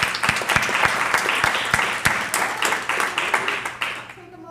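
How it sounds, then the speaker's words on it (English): An audience at a weather-data users' workshop applauds the organizers, steady dense clapping with a few sharp individual claps standing out, fading near the end. "Take a moment for a round of applause for Kevin for making this happen."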